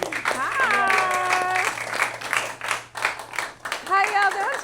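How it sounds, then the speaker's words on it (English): An audience claps for a special guest at a kids' pizza party, with steady applause and cheering running through while voices call out over it. "Let's give her a hand of applause."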